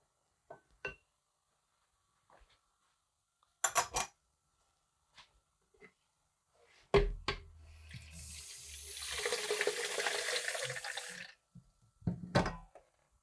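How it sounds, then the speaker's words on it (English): Water runs from a tap into a sink for about four seconds, a steady hissing splash, framed by a few clinks and knocks before and after. "So I just went to the sink and just got some water."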